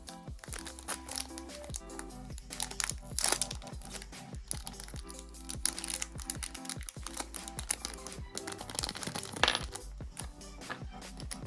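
Packaging for a Razer Basilisk Ultimate gaming mouse being opened up close, with dense clicks, taps and crinkling plastic in an irregular rattle throughout, no talk.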